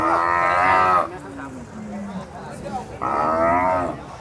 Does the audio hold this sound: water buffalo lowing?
yes